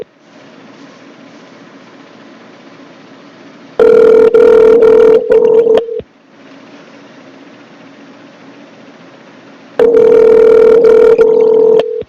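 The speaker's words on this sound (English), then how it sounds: "now it's just ringing on his end" Telephone ringback tone on a call, two loud steady ring bursts around 4 and 10 seconds separated by quieter background line hiss, no talking.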